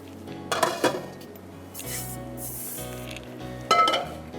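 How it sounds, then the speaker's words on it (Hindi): A kadai is lifted and set back down on a stovetop, giving a few sharp metallic clanks and clinks with a brief hiss in the middle, close up in a home kitchen. "अब हम इधर लेते हैं एक कढ़ाई"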